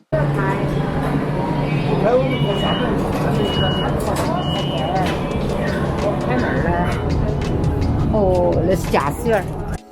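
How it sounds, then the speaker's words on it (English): A commuter train passing through a residential apartment building at Liziba Station rumbles along with a steady low drone and squealing, screeching wheel tones, while people chatter nearby over the noise. "This is the train that goes through a residential apartment building."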